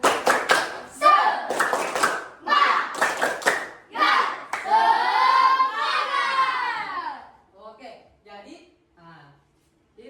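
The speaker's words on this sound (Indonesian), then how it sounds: "kita tutup dengan tepuk semangat" Schoolchildren in a classroom perform a rhythmic spirit clap, sharp grouped claps in a patterned beat alternating with chanted shouting, followed by quieter talk as it winds down.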